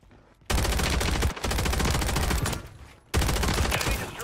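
Loud, dense automatic gunfire in a Call of Duty match, using an AMR9 loadout, rattles in sustained bursts with a brief gap near the start and another short pause before a final burst.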